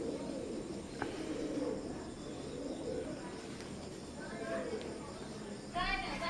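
Soft cooing of a pair of KTM bloodline Teddy pigeons, young birds with one to two feathers, with low warbling coos repeating under near-continuous background talk and a few brighter chirps near the end.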